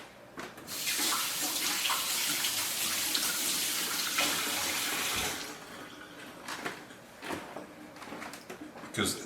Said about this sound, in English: Then I'm going to rinse my hand off real quick.